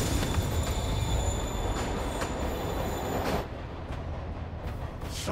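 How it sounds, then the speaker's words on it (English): A train pulls away in the Spider-Man PS4 video game, a dense rumbling roar of wheels on rails with high squealing tones, steady and close before easing slightly near the end. "Train's moving."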